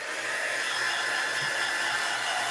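A hair dryer blows steadily and loudly at close range, drying a freshly painted snowman picture, a constant even whoosh with no talk.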